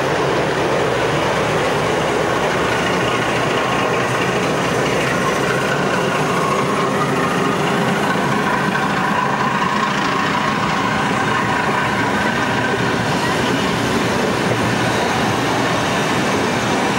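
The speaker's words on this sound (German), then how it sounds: "Richtung Darmstadt zieht eine V36 den Zug." A heavy train pulled by a V36 diesel locomotive rumbles past continuously, with a loud, dense roar of engine and rolling wheels filling the whole stretch.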